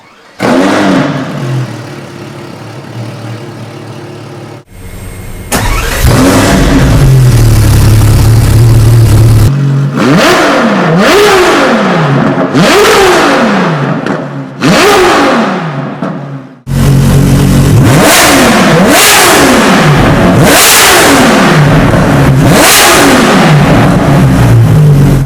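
Modified Ferrari LaFerrari with an FXXK exhaust, revved hard in repeated bursts: loud close blips rising and falling in pitch, separated by short pauses and idle, then a long sustained high-rpm roar.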